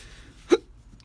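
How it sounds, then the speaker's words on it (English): One sharp human hiccup cuts through a quiet indoor room during a craft session, a single short burst with no talk around it. "Oh, I've got hiccups now."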